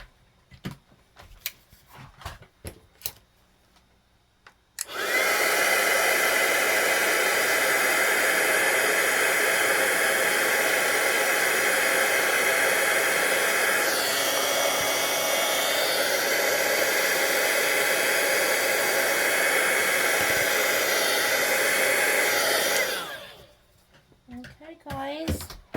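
Electric heat tool blowing steadily to heat embossed card-making embellishments, a loud continuous hiss and whoosh lasting about eighteen seconds after a short quiet start, fading out at the end.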